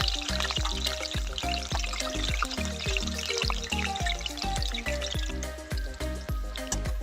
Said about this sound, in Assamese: বইল কৰি লোৱা আলুখিনি তেলত ফ্ৰাই কৰি ল'ম।